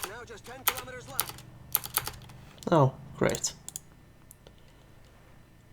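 Computer keyboard keys are pressed in quick irregular clusters of sharp clacks and clicks, close and fairly loud, while someone speaks briefly between the bursts.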